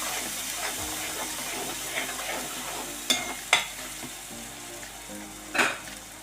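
Tomato curry with turmeric being stirred in a frying pan, a steady sizzle of frying under scraping spoon strokes, with a few sharper clinks of the utensil against the pan.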